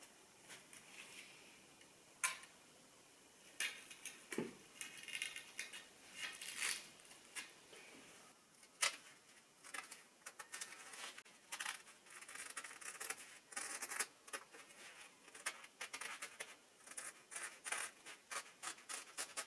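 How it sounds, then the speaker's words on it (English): Scissors snipping through day and night roller blind fabric, a long run of sharp clicks and crisp scraping cuts at an uneven pace, fairly quiet and close with no talk. "cut the rest with some scissors."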